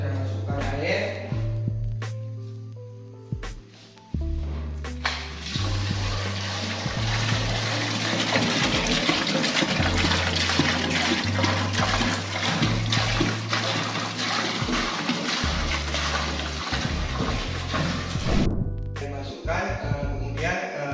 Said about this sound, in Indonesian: Pertama-tama saya masukkan air.